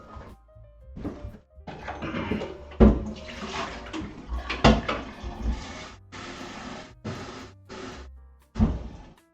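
Water from a kitchen tap is run into a kettle to boil for making coffee, splashing in short, irregular bursts separated by brief silences, with a few sharp clatters.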